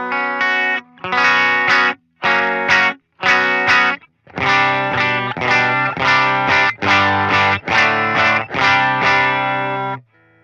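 An electric guitar through an HX Stomp amp model strums loud, bright, biting chords in short rhythmic bursts with brief gaps between them, then stops.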